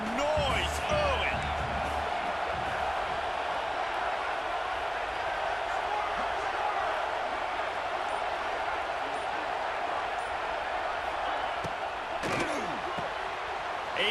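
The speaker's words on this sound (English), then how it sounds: "This crowd bringing the energy and noise early." A stadium crowd in the College Football 26 video game gives a continuous, loud roar that holds steady for the whole stretch, with occasional sharper shouts rising above it.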